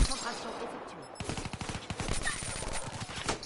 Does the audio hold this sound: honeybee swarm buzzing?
no